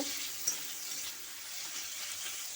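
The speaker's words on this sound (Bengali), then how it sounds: "এরকম ভালোভাবে মশলাটাকে কষিয়ে নিব" Salted spice masala for street-style ghugni being sautéed in a pan, a soft continuous sizzle with a light stirring scrape, no voices.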